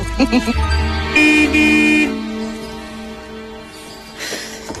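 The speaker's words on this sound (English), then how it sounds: "George, she said you can honk the horn all you like, but it's giving her a migraine." A car horn sounds in a few sustained toots, loud and close, with a longer blast in the middle and a final shorter honk.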